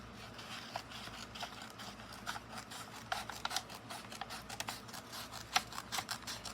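Scissors cut a piece of material off a sublimation project in a run of quiet, uneven snips and rustles, close up and without speech.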